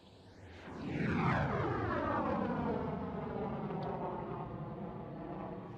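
A jet fighter powered by two General Electric F404 GE42 afterburning turbofans roars past at an air show, the rumble swelling quickly, then a long loud sustained roar with a falling pitch as it passes and recedes.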